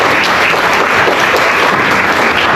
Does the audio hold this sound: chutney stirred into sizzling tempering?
no